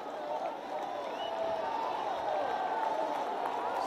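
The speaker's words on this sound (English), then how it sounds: "So some serious cheer for Team West Bengal." A football crowd roars in support of West Bengal at the Santosh Trophy final against Kerala, a dense, sustained cheer with a commentator talking over it.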